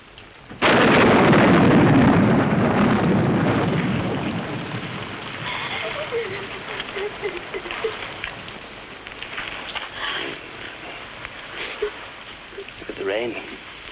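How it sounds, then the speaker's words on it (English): A loud, sudden thunderclap rumbles and fades over several seconds, then steady rain continues while people talk over it. "Rain, like England."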